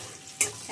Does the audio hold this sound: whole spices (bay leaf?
yes